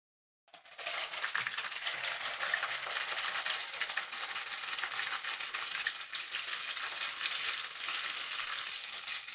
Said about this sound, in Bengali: চিংড়ি মাছের দুই পাশটাকেই জাস্ট আমরা 2 মিনিট মতো ভেজে নিব।